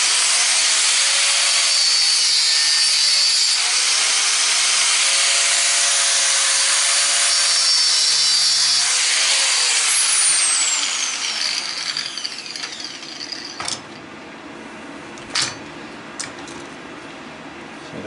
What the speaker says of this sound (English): I'm just going to cut it on both sides and just try to split the nut